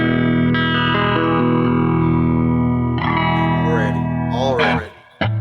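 An electric guitar chord rings out through an Electric Mistress flanger pedal, a sustained distorted tone with a slow swirling sweep, shifting as the knobs are turned, then a brief drop before a new note starts.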